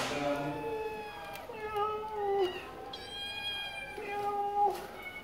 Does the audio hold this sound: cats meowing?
yes